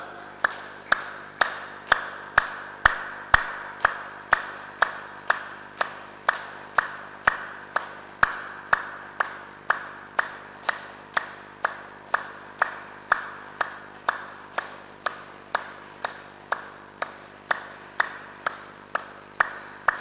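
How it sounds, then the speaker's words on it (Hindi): Rhythmic, forceful hand clapping at a steady fast pace, about two claps per second, loud and sharp throughout a clapping-therapy exercise with no talk over it. "दोनों हाथों को खोल लीजिए और आधा मिनट तक पूरी ताकत से हमें ताली बजानी है।"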